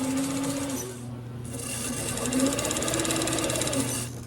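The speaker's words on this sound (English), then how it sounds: "The first step is sewing the 2 front panels together." A sewing machine stitching two large front panels of a vintage McCall's 8358 dress, a steady fast mechanical whirr with a brief pause near the start, close and continuous.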